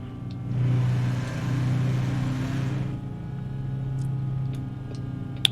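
The Detroit diesel of a cabover truck in American Truck Simulator drones low and steady, swelling as it revs then settling to a quieter idle-like hum with a few faint clicks near the end.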